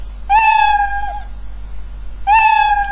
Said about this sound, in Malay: setiap kali dia bunyi, okey, bunyi kucing, bunyi cat, okey, meow